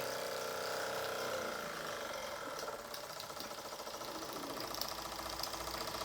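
A Wilson Brothers small vertical-boiler model steam engine runs with a steady, fast mechanical chuffing and ticking while its leaking safety valve adds a continuous hiss; the sound is moderate and close, without voices.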